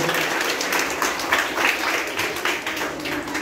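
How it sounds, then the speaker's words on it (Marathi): Children clap together in a school classroom, producing steady, dense applause that stays fairly loud and even for the whole stretch, with no clear talking over it. "शाबास, टाळ्या वाजवायचं."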